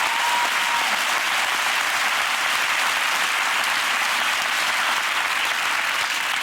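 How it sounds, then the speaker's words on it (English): A studio audience at a TV talk show breaks into sustained applause, a dense, even wash of clapping that stays loud and steady throughout, with no voices above it. "I do think it is worthy of a round of applause."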